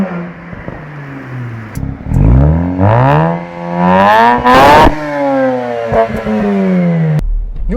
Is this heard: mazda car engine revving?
yes